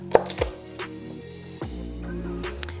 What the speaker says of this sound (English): To mince garlic, what you're going to do is cut this little end off.